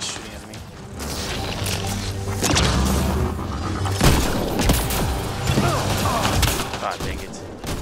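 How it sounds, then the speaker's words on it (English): Rapid gunfire, booms and whooshing impacts fill a combat scene in the video game Mass Effect: Andromeda, loud and dense across the whole stretch with a voice speaking over it. "somebody's shooting at me"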